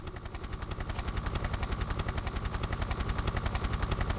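A helicopter's rapid, rhythmic rotor thumping grows louder and holds steady in the video game Tomb Raider Remastered, with bursts of gunfire mixed into the pulsing chop.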